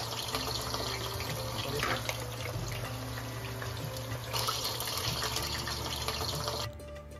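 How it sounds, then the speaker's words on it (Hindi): Four large onions sizzling in hot oil in a pan for Mughlai mutton korma, a steady dense frying hiss that holds for about seven seconds before dropping off near the end, with no talk. "ये मैंने 4 प्याज दी थी बड़ी, अब इनको हम तेल में डाल रहे हैं।"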